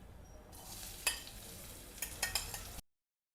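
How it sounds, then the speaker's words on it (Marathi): Chopped onions dropped into hot oil for a methi vegetable dish, giving a steady close sizzle with sharper crackles and stirring clatter as they fry, no talking over it. "तेल तापलंच आहे, कांदा टाकून घेऊ।"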